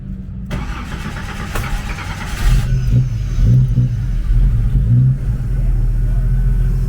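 A Chevrolet Opala engine runs with its solid lifters ticking, first a rough rising rev, then a settling idle with rhythmic thumping pulses, loud and close.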